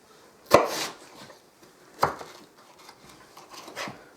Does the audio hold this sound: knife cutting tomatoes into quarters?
yes